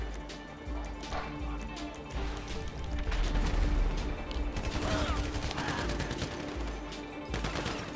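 Rapid bursts of automatic gunfire and explosions in Grand Theft Auto V, loud and dense throughout, crackling over one another in a sustained firefight.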